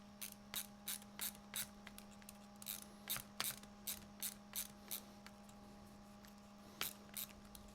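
Screws being backed out of an RC car chassis, a run of short sharp ratcheting clicks in quick bursts, fairly close, over a steady low hum, with a pause before a final few clicks.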